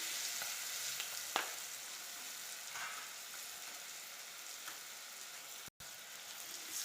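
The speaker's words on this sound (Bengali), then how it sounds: "এভাবে খুন্তি দিয়ে নেড়ে নেব।" A spatula stirs a spinach and shrimp curry through a pan over a soft, steady sizzle, with a few scrapes against the metal, quiet and close.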